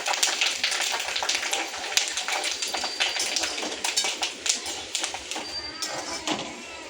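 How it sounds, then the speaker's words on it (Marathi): Curry leaves crackle and spit in hot oil while making Diwali patal poha chivda, a dense run of sharp pops and sputters at close range, continuous throughout with no talking. "कढीपत्ता खूपच चरचर करतो"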